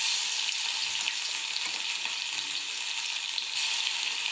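Cumin seeds and crushed chili paste sizzling in hot oil in a pan, a steady, close, bright hiss of frying with no break or talking.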